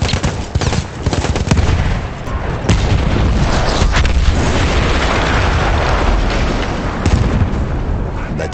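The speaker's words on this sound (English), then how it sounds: "That explosion was one of the sweetest sights of the war for me." A gun blown up in the World War I shooter Battlefield 1 erupts in a loud, sustained explosive roar with rumbling booms and crackling debris that continues for several seconds.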